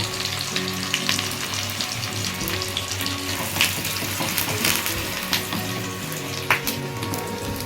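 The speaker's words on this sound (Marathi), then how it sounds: "इकडे आता कांदा टाकलेला आहे मस्त तेल पण तापलं आहे थोडं ब्राऊन होईपर्यंत व्यवस्थित असं भाजून घेऊया" Onion fries in hot oil with curry leaves for a fish dish, giving a dense, continuous sizzle with scattered crackles and pops that stays loud and close throughout.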